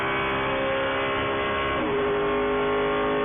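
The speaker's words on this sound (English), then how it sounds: "Listen to that. Do we think that's the Cup engine?" Race car engine, a NASCAR Cup-type V8 at Daytona during a 14-hour endurance race, drones loudly and steadily with dense harmonic roar, shifting pitch slightly near the end as it passes or revs.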